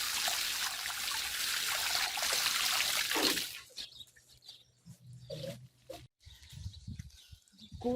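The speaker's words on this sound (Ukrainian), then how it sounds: "Приливаю луночки водичкою для моїх рослинок, для моїх красотулечків." Water poured from a container into planting holes dug in garden soil, a loud steady splashing pour that stops after about three seconds, followed by scattered soft trickles and rustles.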